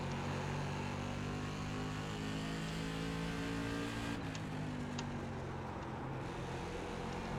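SK Modified race car engines in the iRacing racing game drone loudly and continuously, with several cars running close together in a pack. The layered engine tones shift slightly as cars jostle for position.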